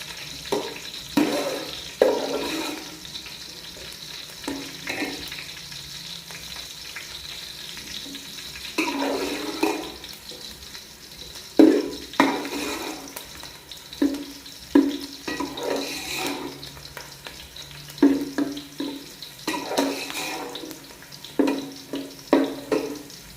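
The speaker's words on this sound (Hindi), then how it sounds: "चम्मच को हिलाते रहना है ताकि हमारे प्याज जल ना जाए" Onions frying in a pan for a cabbage fry while a spoon stirs them. Repeated scraping strokes arrive in uneven bursts over a soft, steady sizzle, close and moderately loud, and no one speaks.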